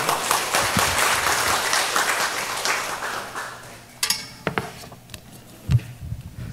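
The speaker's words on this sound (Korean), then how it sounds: "세 번째 주제 발표를 해주실 전하영 회장님을 큰 박수로 모시도록 하겠습니다" Audience at a lifelong-education symposium applauding as a presenter is welcomed, a dense burst of clapping that fades after about four seconds into a few scattered claps and light stirring and shuffling.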